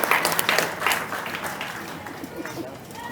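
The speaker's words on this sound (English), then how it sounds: "Give yourselves a big round of applause" An audience at a Juneteenth stroll gathering claps in a dense burst that gradually thins out, with voices talking over and after the applause.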